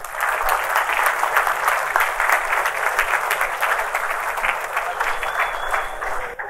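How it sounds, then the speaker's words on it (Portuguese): Steady applause from an audience at a helicopter rescue equipment symposium, a continuous dense clapping that stays even and fairly loud throughout. "Uma salva de palmas para o Sr. Walker."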